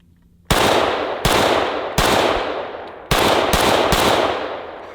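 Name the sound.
Steyr AUG rifle firing shots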